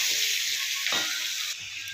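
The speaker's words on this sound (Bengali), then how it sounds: "আলুগুলো বড় বড় খুন্তি দিয়ে কেটে দিচ্ছি।" Potato chunks sizzle steadily in a hot pan while a metal spatula cuts and scrapes through them, with a brief louder scrape near the middle; no talking.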